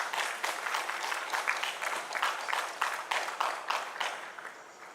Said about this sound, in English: A round of applause for our applicants